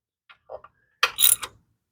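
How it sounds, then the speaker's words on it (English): A hand ratchet tightening small bolts on the oil cooler of a Dodge Dart 1.4L turbo gives a few faint clicks, followed by a louder, brief burst of close ratcheting. "Notice where my hand is on the ratchet."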